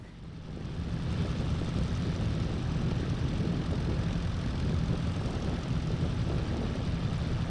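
Steady drone of a Piper PA-28R Arrow III small single-engine plane in Microsoft Flight Simulator, a constant engine and propeller hum held at an even level throughout, with no talking.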